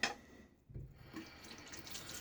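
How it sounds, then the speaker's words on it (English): Water runs from a tap into a syringe used to wet shaving lather, a soft steady trickle with a brief splashy change in flow partway through, close and quiet, with no voices. "So we're going to fill up the syringe here so I can add water."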